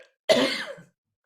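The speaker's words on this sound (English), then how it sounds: "I'm coughing." One short, sharp cough, close and fairly quiet, standing alone in silence during an online talk.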